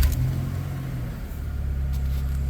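A BMW Z car starts after its battery is reconnected, the engine settling into a steady low idle rumble with a brief rise in revs, heard close and continuous without talk.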